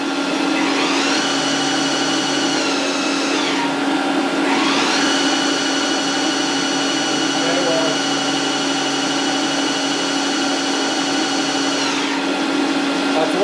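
Bridgeport Torq Cut 22 CNC milling machine spindle running, a loud steady whine that drops in pitch, then ramps back up as it shifts into low range, continuous and close.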